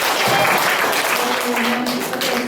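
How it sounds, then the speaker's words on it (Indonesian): Applause from students during a group presentation for a high school Indonesian-language practical exam at SMA N 1 Purworejo, dense steady clapping from a nearby crowd filling the whole moment. "tepuk tangan dong untuk kita semua"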